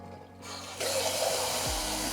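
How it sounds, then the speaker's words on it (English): Cold tap water gushes into a pot of just-cooked soft-boiled eggs, starting abruptly after a quiet moment and continuing as a loud, steady rushing splash, with a brief clunk partway through. "fill it with cold water"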